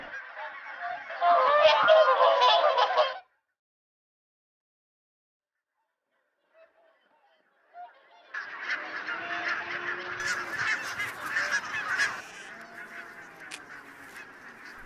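Geese honk in a flock on autumn farmland on Islay, Scotland, feeding on grain, a loud burst of overlapping honks, then a pause, then a longer, slightly more distant chorus of calls.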